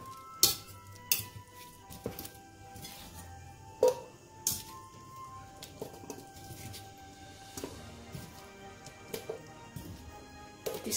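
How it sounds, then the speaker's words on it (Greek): Chunks of sweet potato dropped into a pot and stirred while pork chops are braised, a scattering of sharp clinks and knocks of a utensil against the pot over a faint simmer, quiet and close. "Βάζουμε μέσα τις πατάτες και τις ανακατεύουμε"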